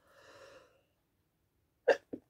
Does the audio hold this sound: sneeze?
yes